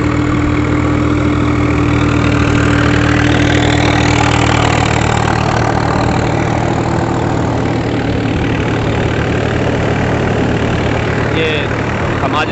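A Swaraj 744 XT tractor engine drives a thresher, giving a loud, steady mechanical drone with a constant low hum and grinding machinery noise that continues unbroken throughout.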